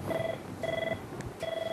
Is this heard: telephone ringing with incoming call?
yes